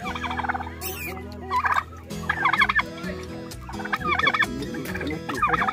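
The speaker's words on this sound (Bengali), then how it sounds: "টার্কি আছে।" Turkeys gobbling at Sonar Bangla Park in Mukutmanipur, with repeated loud, rattling gobble bursts from several birds close by, layered over ongoing outdoor background noise.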